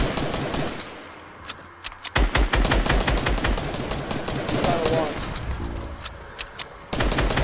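Rapid video game gunfire, dense bursts of close, sharp shots nearly continuous across the clip with brief gaps, with faint talk underneath.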